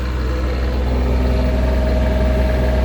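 A 7500 quiet diesel generator runs on a 2005 Itasca Horizon 36RD motorhome, giving a steady, low idling drone that holds at an even level throughout with no voices.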